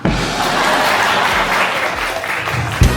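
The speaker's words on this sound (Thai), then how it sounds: "เสียงปรบมือค่ะ" Loud, dense applause from an audience runs steadily for the full stretch with no voices over it, ending in a brief thump.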